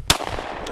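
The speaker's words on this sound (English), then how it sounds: "There's a rabbit right there. I'm gonna shoot it in the head." One sharp gunshot fired at a rabbit while hunting, close and loud, followed by a brief decaying echo into outdoor ambience.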